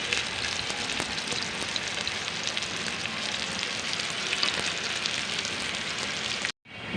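Taro stems frying in a pan give a continuous loud sizzle and crackle that holds steady, then cuts off abruptly near the end.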